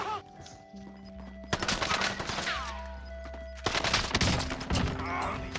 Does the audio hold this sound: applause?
no